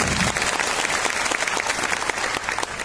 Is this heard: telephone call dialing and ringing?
no